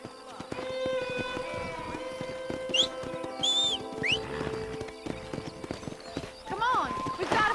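Horse hooves clip-clop at a steady gallop in Red Dead Redemption, with occasional whinnies and neighs, set under game music and ongoing speech.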